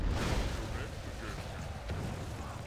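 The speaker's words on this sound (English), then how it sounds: "We should stop my cannon from firing now." A dwarf cannon fires in the Call of Warhammer battle game, a heavy boom at the start that rolls into a dense, continuous battlefield rumble over the next few seconds.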